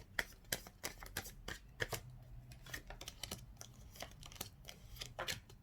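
A deck of cards shuffled for a reading, producing a quick, steady patter of soft riffling flicks and taps up close, fairly quiet and without speech.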